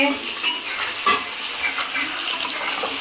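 Frying and stirring in a home kitchen, a steady sizzle broken by light clinks of utensils against pots and pans, heard close.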